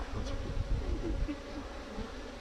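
Honey bees, including large drones, buzz around an opened hive in a continuous, fairly close drone, with low rumbles and handling noise mixed in.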